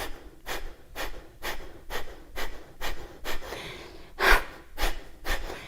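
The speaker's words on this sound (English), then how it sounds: "press the elbows back and forcefully exhale." Forceful yoga pranayama exhalations, arms bent with palms up and elbows pressed back, come as sharp rhythmic bursts of breath about every half second, close and loud, with one heavier puff near the end and no talk.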